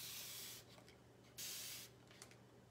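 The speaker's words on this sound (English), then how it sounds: "I'm going to spray my sheet of paper with water" Two bursts of fine mist from a water spray bottle aimed at a sheet of paper, each a soft close hiss lasting under a second, with faint rustling between them.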